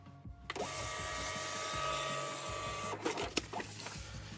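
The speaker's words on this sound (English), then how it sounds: "I'm going to switch this off for a second and get a test print" A networked Xprinter thermal receipt printer runs a test print, a steady mechanical whir of the print head and paper feed for about two and a half seconds, closing with a few clicks and a brief clatter.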